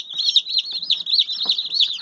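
A cluster of newly hatched chicks, some Livensky breed, cheeps constantly in high, rapid peeps, close by and overlapping without pause.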